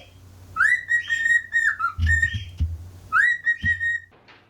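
A pet bird in a 1950 film whistles bright, rising melodic phrases, then repeats a similar phrase after a short gap, with a few low thumps and a steady background hum underneath.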